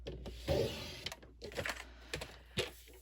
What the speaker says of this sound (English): We're going to start by cutting this card base right here using our trimmer